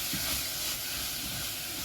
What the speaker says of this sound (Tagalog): Igisa lang natin hanggang mag-caramelize yung ating white onion.